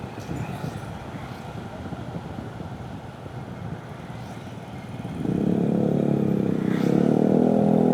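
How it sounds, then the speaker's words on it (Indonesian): A motorcycle engine rumbles nearby, growing suddenly louder and harsher midway as a loud, raspy aftermarket open exhaust roars steadily to the end. "Ini kan, knalpot brong lagi."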